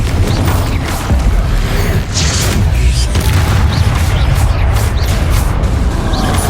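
Dense booming blasts from the Confringo fire spell in Hogwarts Legacy on PC, loud continuous rumbling explosions with crackling bursts layered over a low roar, no speech.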